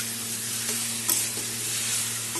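Raw mango pieces with turmeric are stirred as they fry in a pan for a sweet-and-sour chutney, giving a continuous loud sizzle with scraping spoon strokes close by.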